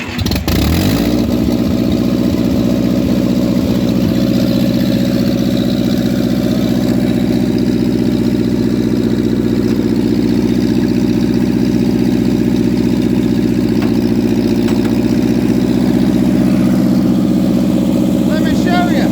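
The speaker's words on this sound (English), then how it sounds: "We're going to start the tractor up. It's going to make a lot of noise." A tractor engine kicks over and settles into a loud, steady, rumbling run that continues without a break, close by, with a disc implement attached for plowing a garden.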